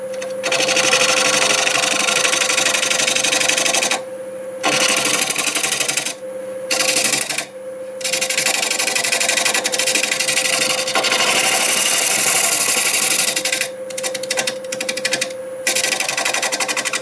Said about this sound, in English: Using a 1/2-inch bowl gouge, we're doing